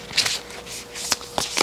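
A new, stiff Labyrinth tarot card deck is shuffled close up, giving several quick riffling bursts and soft card slaps within a couple of seconds.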